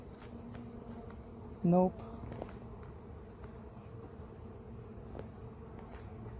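Honeybees flying around an open beehive, with a soft, continuous buzz and one loud, close buzzing pass, plus a brief spoken word.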